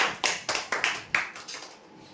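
Applause from a gathered crowd for a prize-draw winner of a 4x6 bed, a quick burst of clapping in several rising swells that fades out over about two seconds, with no talking.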